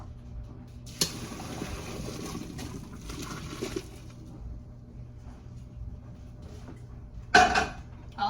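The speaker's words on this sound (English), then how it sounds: "Always rinse with cold so it stops cooking." Cold water runs into a kitchen pot over cooked food, a steady splashing rush for a few seconds, with clanks of the pot and a sharp knock near the end.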